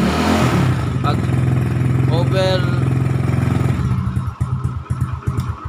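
A Mxi 125 motorcycle with a stock half-wave regulator runs up to high RPM, a steady buzzing engine drone close by for several seconds, then fading as someone talks over it.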